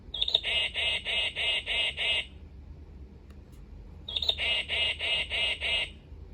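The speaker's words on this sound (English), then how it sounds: "Black-capped chickadee." Black-capped chickadee call played by a bird-sound wall clock, two bursts of six rapid, evenly spaced harsh notes, each burst about two seconds long, close and clear with a quiet pause between them.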